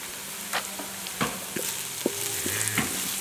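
Spring onions cooking in a pan, giving a soft, steady sizzle with a few scattered stirring scrapes and taps of a utensil, close but fairly quiet.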